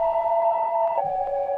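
A synth pad chord is played on a keyboard, holding a smooth sustained tone that shifts to a slightly lower chord partway through, clean and alone.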